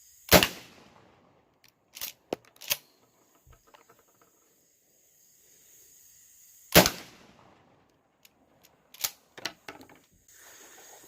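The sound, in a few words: Remington 12 gauge 00 buckshot shotgun firing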